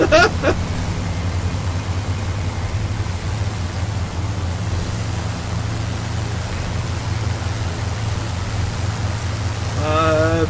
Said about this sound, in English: Oh, all of the engine noises.